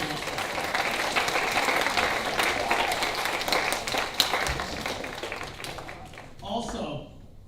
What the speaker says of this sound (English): You guys can give a round of applause for your parents.